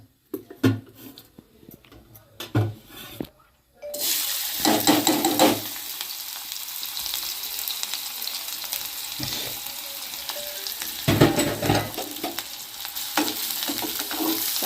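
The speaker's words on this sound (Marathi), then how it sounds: "मस्तपैकी कांद्याची फोडणी घालूया." Sliced onions fry in hot oil for the tempering of a Konkan-style fresh cashew curry. A few knocks and clinks come first, then the onions hit the oil with a sudden loud hiss that settles into a steady sizzle, with occasional stirring.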